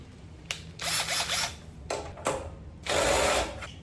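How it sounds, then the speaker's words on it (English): Cordless drill fitted with a ratchet tip, running in several short whirring bursts separated by brief pauses, with a clicking, ratcheting mechanical quality, close and moderately loud. "we got a drill with the right size ratchet tip on the end of it"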